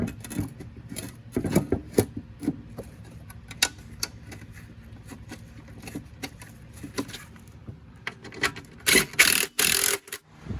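A file sharpens the blade of a classic Briggs engine in short, irregular rasping strokes with pauses between them, followed by a denser flurry of strokes near the end, all close up.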